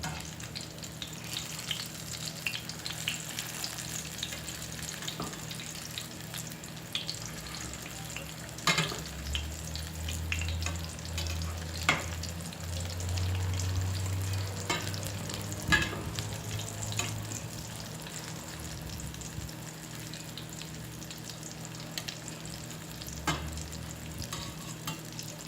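Red bean patties fry in a hot pan with a steady, close oil sizzle and crackle that runs throughout, broken by occasional scrapes and clanks as they are turned.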